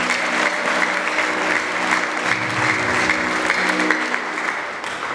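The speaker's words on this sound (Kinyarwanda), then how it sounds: "Dushaka twakomera Imana amashyi tugana" A church congregation gathered for a prayer service claps together in sustained, dense applause that stays steady and loud for several seconds before easing slightly at the end.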